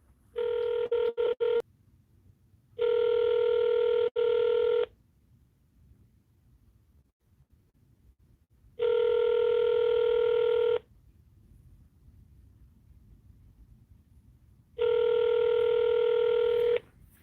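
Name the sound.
telephone dialing tones while placing a call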